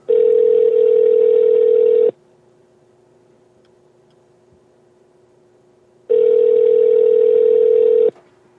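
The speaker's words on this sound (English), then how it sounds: "Oh, it's ringing." Outgoing telephone ringback tone, two long steady beeps about two seconds each separated by a four-second pause, clear and alone.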